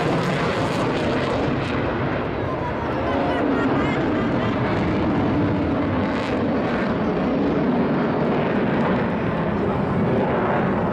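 A Eurofighter Typhoon jet flying a display at the 2017 Blackpool airshow, a loud, steady roar of jet engines that fills the whole stretch, swelling and easing slightly as it passes.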